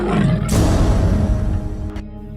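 A loud, close white tiger roar, rough and throaty, lasting about a second and a half before cutting off sharply.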